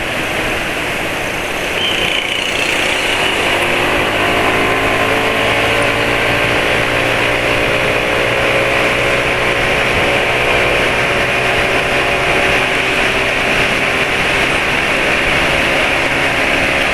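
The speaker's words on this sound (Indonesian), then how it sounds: "kalau di RPM rendah," A steady, low engine hum runs throughout with a smooth, even tone, like a car idling at low revs, with no speech.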